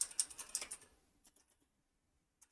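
A quick burst of typing on a computer keyboard, several rapid key taps, then a few sparse, quieter clicks after a pause and one last tap at the end.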